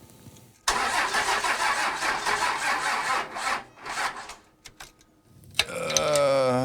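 A diesel truck engine cranks over slowly on a weak battery in a long, labored grinding burst, then pauses and gives a shorter crank before a steadier tone.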